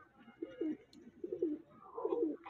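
Pigeons coo in three soft, rolling phrases, evenly spaced and close by, with no other sounds.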